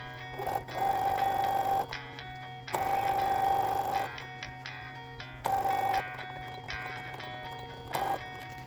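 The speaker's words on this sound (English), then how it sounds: "I'm just going to do a straight stitch where I pinned" A sewing machine runs straight stitches along the side seams of a custom tapestry shirt in three sustained whirring bursts, each ending in a short pause, with a brief fourth burst near the end.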